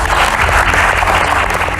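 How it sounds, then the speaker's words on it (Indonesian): Dense, loud applause from an audience for Sherly at a public Q&A session with Anies Baswedan, a continuous wash of many hands clapping at once without pause. "Tepuk tangan dulu buat Sherly"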